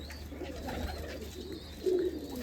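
Pigeon on a rooftop gives a soft, low coo, fairly faint against a quiet background hum.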